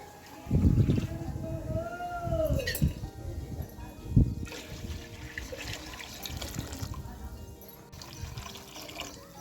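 Water from three cups pours into a pan of semolina for breakfast upma, a splashing, trickling rush near the start that settles into a softer wash, with a voice talking over parts of it.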